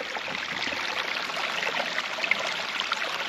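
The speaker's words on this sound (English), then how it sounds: "This water coming right out of the rocks is awesome." Spring water trickling straight out of rocks on rugged park terrain, a steady close bubbling trickle filling the moment with no voices.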